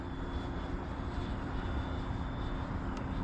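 A Freewing T-45 Goshawk 90mm RC jet drones steadily at a distance, a faint even engine whine with a thin steady tone riding over a low rumble.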